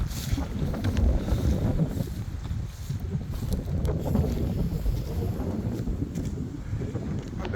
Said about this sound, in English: Sorry about the wind. It's real.